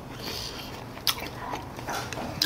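Crispy Korean sweet and sour pork (tangsuyuk), served with sauce poured over, is bitten close up, giving two sharp crunches about a second apart. Soft chewing fills the gaps between them.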